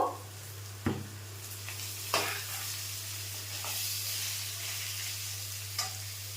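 Soaked soybeans fry and sizzle steadily in a pan over low gas for ghugni, with a few sharp scraping stirs of a spoon breaking through the constant crackle and a low steady hum underneath.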